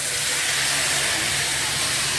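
Prepared sauce mixture for chilli paneer poured into a hot pan, giving a loud, steady steamy sizzle and hiss that holds evenly throughout.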